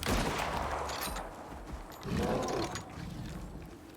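Rifle gunfire in the survival game Icarus in an arctic biome, a burst of rapid cracking shots with mechanical clatter, then a second flurry of fire.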